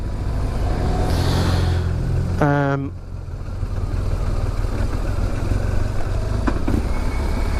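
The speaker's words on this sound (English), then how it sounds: "she's great for going down steep roads like this, where you just kind of let her engine brake her way all the way down" A vehicle engine-brakes down a steep road in Scotland as a steady low engine drone runs throughout, with a brief rising tonal burst near the start and faint wind or road noise over the top.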